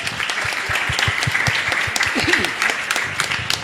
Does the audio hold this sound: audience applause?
yes